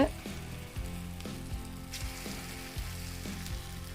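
Green gram paniyaram batter sizzles steadily in a hot pan over low heat, with a continuous frying hiss broken by soft, regular clicks roughly every second.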